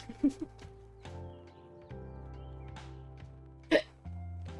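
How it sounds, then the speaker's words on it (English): A person hiccups: two quick hiccups come close together and a third follows a few seconds later, each short and fairly faint over quiet background tones. "Oh, darn hiccups."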